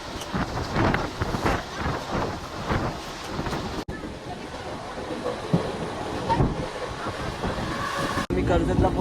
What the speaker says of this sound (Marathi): आता आम्ही ट्रेनमध्ये बसलेलो आहे